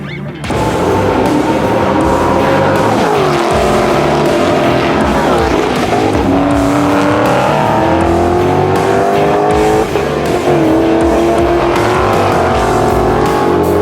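Ford Mustang race car pushing hard on a qualifying lap at COTA, engine loud and continuous with rising and falling revs through gear changes, tires squealing in places, cockpit-close throughout.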